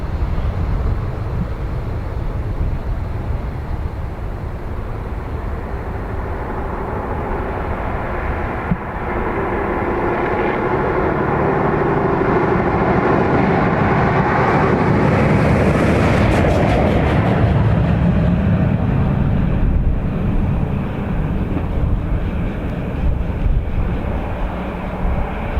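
Aer Lingus flight EI106 from JFK arriving at Dublin Airport, a loud jet airliner roaring close by with a building engine whine that peaks and then slowly fades, with no talk.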